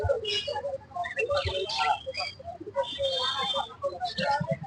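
Adult pet birds at a bird seller's stall, spangle budgerigars among them, chirping and tweeting in quick bursts close by, mixed with people talking nearby.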